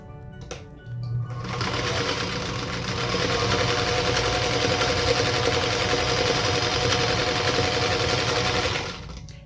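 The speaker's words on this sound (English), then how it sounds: "we're going to sew a straight line 1/4 of an inch on each side of that center marked line." A sewing machine stitches straight seams on quilt squares for a star block, a fast steady mechanical chatter running nearly continuously and close up, alone without voices.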